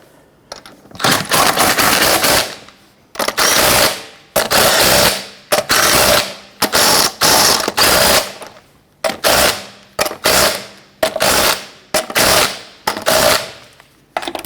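A ratchet snugging down the lug nuts on a Jeep Grand Cherokee wheel, with loud rapid clicking bursts in a dozen or so separate runs, each a second or less, spaced by short pauses.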